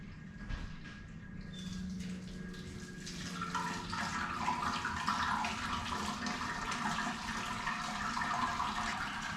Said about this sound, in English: trying to get as thorough a sparge as possible. Trying to get around the edges. I'm trying to rinse out every bit that I can.